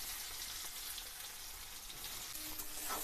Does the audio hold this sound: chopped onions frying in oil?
yes